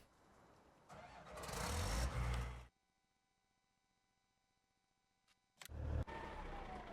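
A truck engine in the farming game Farming Simulator 19 roars loudly for a couple of seconds, cuts off into near silence, then starts up again with a heavy rumble.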